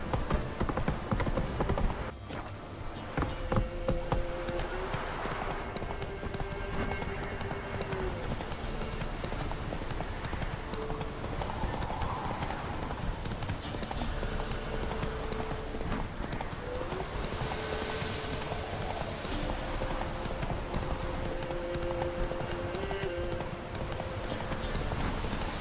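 Horse Roach's hooves clip-clop steadily at a walking pace in The Witcher 3, a close, continuous rhythm over ambient game wind and faint music, with an occasional brief whinny.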